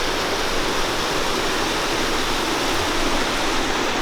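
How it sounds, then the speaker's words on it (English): A waterfall on a nature trail pours in a steady, even rush of broadband water noise, constant and moderately near with no voices. "Look at this awesome water fountain. Waterfall."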